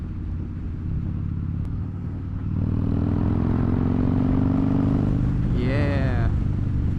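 A Harley-Davidson Dyna Fat Bob (FXDF) motorcycle engine drones steadily while riding, its pitch rising as the engine revs higher midway, mixed with wind rush and some rattling, heard up close alongside the rider's talk.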